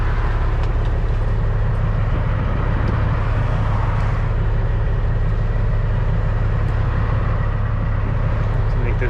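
A truck pulls away in second gear, its engine note a loud, steady low rumble that holds throughout, with faint voices in the background.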